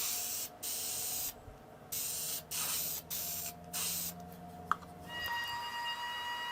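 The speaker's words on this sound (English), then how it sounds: "I want to give a light coat of spray-on lacquer just to protect the wood surface" Short bursts of spray-on lacquer hiss onto a wood surface in a steady rhythm of one- to two-second blasts, close and fairly loud, with brief pauses between them and a small tap near the end.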